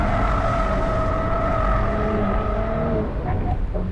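A Porsche accelerates hard through a corner on a track, its engine loud, close and sustained, with a steady harmonic drone that shifts in pitch near the end. No one speaks.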